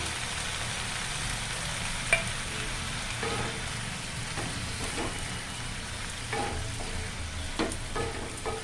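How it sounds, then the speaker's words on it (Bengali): Vegetables fry in a pan and are stirred after a paste of cumin powder, a little tomato ketchup and water is mixed in. A continuous sizzle runs throughout, broken by occasional scraping strokes of stirring, with no voices. "এটা আমি সবজিতে মিশিয়ে দিলাম।"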